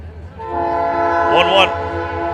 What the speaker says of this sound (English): As a train makes its way through